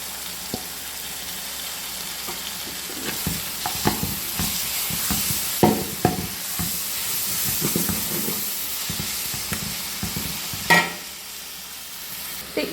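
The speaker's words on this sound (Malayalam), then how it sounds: "അപ്പോൾ ഇത്രയും കൂടി ഇട്ട് നന്നായിട്ട് ഞാനൊന്ന് വഴറ്റിയിട്ട് വരാം" Cauliflower, potato, tomato and green chilli sauté with salt in a pan for a curry: a loud constant sizzle and hiss with spatula scrapes and clatters, steam rising throughout.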